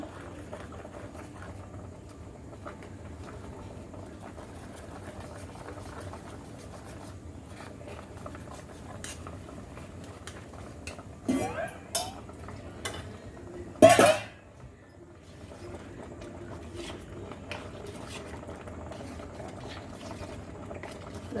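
Rice flour mix stirred into simmering milk for paal kozhukattai, a soft steady bubbling close by, broken by a few sharp utensil clinks against the pot partway through.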